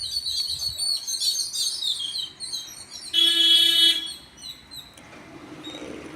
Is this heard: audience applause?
no